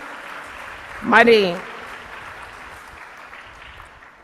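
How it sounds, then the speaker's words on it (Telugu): A church congregation claps in praise in one short loud burst of applause, then fades back under a preacher's voice. "చప్పట్లు గట్టి కొట్టి దేవుని స్తుతిద్దాం"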